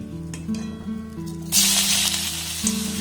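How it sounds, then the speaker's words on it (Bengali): Grated garlic is dropped into melted butter for a restaurant-style chicken soup and bursts into a loud hiss. A quieter kitchen hum comes first, then the sizzle holds steady for the rest of the clip. "রসুনটাকে একটু হালকা নাড়াচাড়া করে ভেজে নেব"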